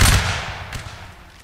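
Musket volley fired by a line of soldiers in a Napoleonic Wars line battle game, one loud cracking blast of many near-simultaneous shots, then a rolling echo that fades slowly with a faint late pop.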